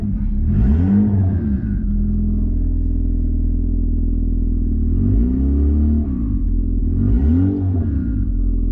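Budget turbocharged Nissan car engine running loud and close, a deep steady rumble swelling in three revving surges as it warms up with cold oil.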